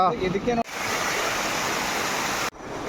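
Floodwater rushes near a village bridge in a loud, continuous roar of water. A brief voice is heard just before the roar begins.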